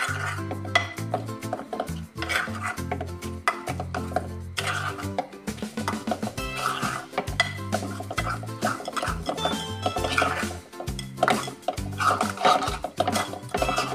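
Paneer tikka marinade with crushed fenugreek leaves, garam masala and salt is mixed in a bowl, making close, busy clinks, scrapes and wet squelches that repeat in quick bursts with brief pauses.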